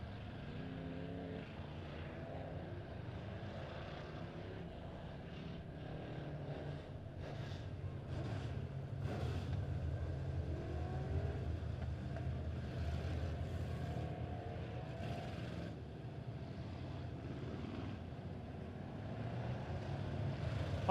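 Midwest Modified race cars circle a dirt track at Springfield Raceway during a B-main heat, their engines blending into a faint, continuous, distant drone that rises and falls slightly.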